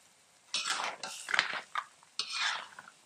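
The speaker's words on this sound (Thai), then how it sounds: "ทีนี้ก็เปิดไฟให้แรงขึ้นมาไฟแรงขึ้นมาแล้วนะก็ใส่ปูลงไปเลยปุ๊บไป" Crab going into a hot wok over high heat for a curry powder stir-fry, heard as a few close, short bursts of clatter and scraping separated by brief pauses.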